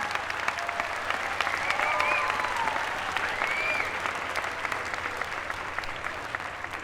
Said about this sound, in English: Let's give another round of applause for our extraordinary students.